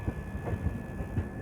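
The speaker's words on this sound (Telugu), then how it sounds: "అక్కడ ముందర నుండి మన ట్రైన్ కర్వ్ కొడుతుంది" The 12796 Lingampalli–Vijayawada Intercity Superfast Express runs on the Secunderabad–Kazipet line with a low, steady rumble and soft periodic thumps of wheels over rail joints, fairly faint and without voices.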